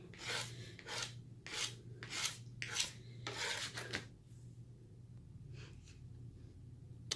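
Leftover cardstock is scraped off a cutting mat with a series of quiet, rhythmic rasping strokes close by, about seven scrapes followed by a couple of lighter ones.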